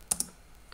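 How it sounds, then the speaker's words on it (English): A few quick keystrokes on a computer keyboard while typing a command in a Linux terminal, two close clicks followed by a fainter third, no speech. "you're gonna wanna type"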